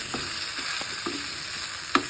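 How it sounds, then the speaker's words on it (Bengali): Country chicken pieces fry in spice masala while being stirred: a steady close sizzle runs throughout, with repeated scraping strokes of a spoon against the pan and one sharper clank near the end. No voices. "মাংসগুলো মশলার মধ্যে আমি ভালো করে ভেজে নিলাম।"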